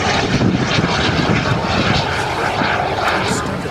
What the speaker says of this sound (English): 160 turbine engine with 40 pounds of thrust